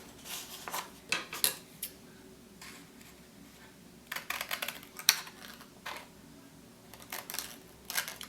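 Scissors cutting taupe paper into mountain-shaped pieces: close, crisp snipping and rustling in uneven clusters with short pauses between, with no talking.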